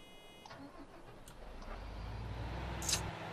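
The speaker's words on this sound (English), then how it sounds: "Engine start, that's it." Ropa Euro Tiger beet harvester engine starting in Farming Simulator 15: a faint click and whirr give way to a low engine rumble that builds and settles into a steady drone; no voices.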